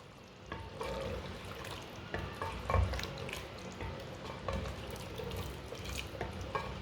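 Goat meat and garam masala being stirred in a clay handi, with soft scraping, wet shuffling and a gentle sizzle running continuously at a fairly quiet, close level.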